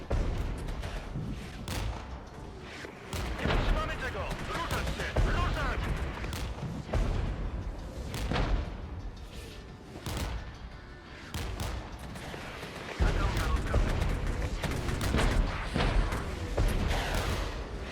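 Helicopter auto cannons and gunfire from Mi-2 gunships in a Regiments battle game: dense, repeated bursts and booms that go on without pause, with a few brief gaps.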